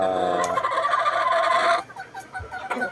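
A Bone Crusher hatch gamefowl calls with a loud, drawn-out harsh crow lasting over a second, followed by a few quieter clucks and rustles nearby.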